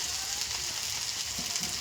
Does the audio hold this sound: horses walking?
no